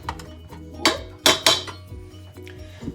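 Metal stand mixer attachments clank and clink as a paddle is pulled off and a dough hook is fitted, several sharp knocks over about three seconds, close and fairly loud in a quiet kitchen.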